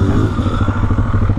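Enduro trail motorcycle engine on a Philippine trail ride running steadily and loud at close range, a throbbing low idle-to-mid rev with a faint clattering texture and no talk over it.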